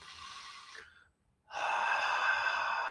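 Two breaths close to the ear, a soft airy exhale, a short pause, then a longer, steady inhale.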